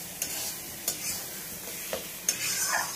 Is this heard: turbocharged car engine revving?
no